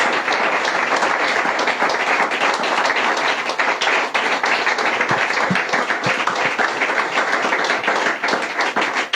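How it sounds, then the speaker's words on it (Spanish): A church congregation claps loudly and steadily throughout, a dense continuous wall of applause during a worship service, with no pauses. "A mí me enseñaron que a Dios se le aplaude con toda la fuerza."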